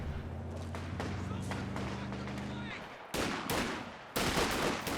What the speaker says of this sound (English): we're seeing a very early mortar from Teitoku